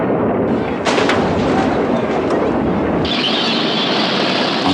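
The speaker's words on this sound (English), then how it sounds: "They begin by bombing and shelling southern Lebanon, where Palestinians live among the Lebanese." Artillery bombing and shelling of southern Lebanon rumbles as a dense, loud, continuous roar, with sharper blasts cracking out near the start and heavy booming carrying on throughout.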